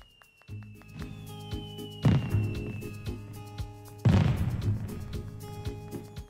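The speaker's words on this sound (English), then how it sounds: "Catch some fireworks here." Fireworks show in the video game Animal Crossing: New Horizons, with two bursts landing about two seconds apart over a sustained layered musical tone and background game ambience.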